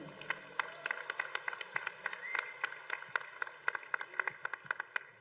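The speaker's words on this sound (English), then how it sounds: "I would really want you to give a round of applause for our Thomas Achan" A convention audience gives a round of applause, sparse and fairly quiet, with distinct individual claps scattered irregularly over about five seconds.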